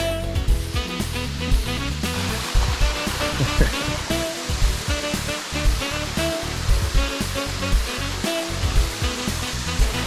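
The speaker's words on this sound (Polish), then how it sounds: "Wodospad." A waterfall roars continuously nearby, a dense wash of noise with some rumbling and irregular thumps, likely wind buffeting the microphone.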